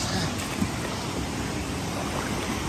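Steady broadband rush of falling and flowing water at Lintungan Waterfalls in Nueva Vizcaya, a continuous, close, fairly loud wash with no pauses or voices.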